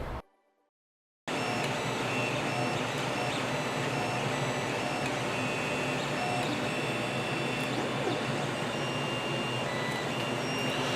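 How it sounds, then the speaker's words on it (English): A newly bought 3D printer runs in a home garage, a steady mechanical whir with faint tonal whines and a constant hum, close and unchanging after a brief moment of near silence at the start. "We've purchased a 3D printer."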